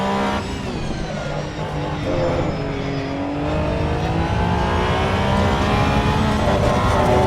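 A Porsche 911 GT3 engine on the Nordschleife in Assetto Corsa Evo revs with a loud, continuous droning whine that rises and falls in pitch as the throttle is worked.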